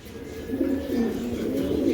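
Tiger grizzle pigeons cooing close by, a continuous low throaty coo rolling on without pause.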